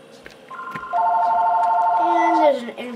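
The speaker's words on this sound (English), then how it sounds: "Incoming call on my phone." Incoming phone call in Euro Truck Simulator 2, heard as a sustained electronic ringtone of steady tones that drops to a lower pitch near the end, clear and close under a faint background.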